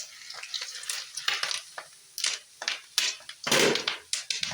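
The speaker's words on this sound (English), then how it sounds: "you need to keep stirring so that every part" Mango popcorn being stirred in a pan, a series of scraping, rattling strokes of kernels against the pan in irregular rhythm, close and moderately loud, with a louder burst of rattling near the end.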